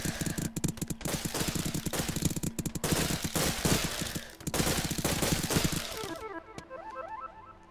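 Gunfire in the VR game Rec Room: rapid, dense bursts of shots crackling almost continuously for about six seconds, loud and close, ending with a few sparse ringing tones afterward.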